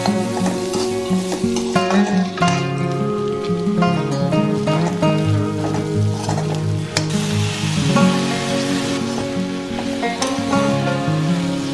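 Butter masala frying with tomatoes in a pan, a steady dense sizzle with stirring scrapes running throughout at a close, even level, with music-like tonal layers underneath and no talk.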